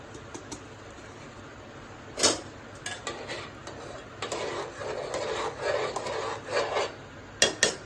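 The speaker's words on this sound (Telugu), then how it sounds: "ఇప్పుడు ఇందులో రవ్వ వేసుకోవాలి" Wheat semolina for upma stirred into boiling water in a pot, heard as scraping and rubbing strokes of a spoon against the pan with occasional sharper knocks, close and moderately loud.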